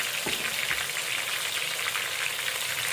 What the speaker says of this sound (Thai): เราจะทอดแค่สี่ตัวก่อนนะคะ